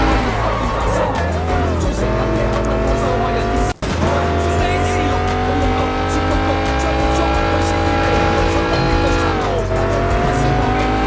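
Car in the video game Sleeping Dogs skidding through a handbrake turn, with tires squealing steadily over a loud, revving engine for several seconds, broken by a brief cut in the middle.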